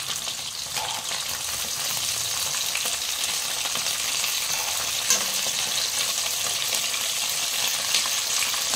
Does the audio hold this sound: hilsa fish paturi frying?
yes